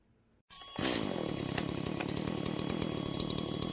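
A chainsaw starts abruptly and runs at a loud, steady roar with slight rhythmic fluctuations, close and alone after a brief quiet moment.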